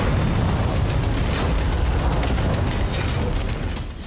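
Blast destroying a Hezbollah weapons depot in the Al Qusayr area of Syria, heard as a sustained, loud, dense roar of rumbling explosion noise that fills the clip and eases slightly at the end.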